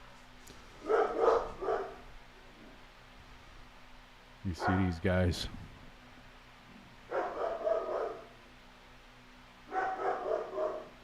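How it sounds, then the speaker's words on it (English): Several dogs bark in loud bursts at a delivery person arriving at a house, four separate volleys of barking spread across the span, with someone speaking between them. "The dogs are gonna go crazy now."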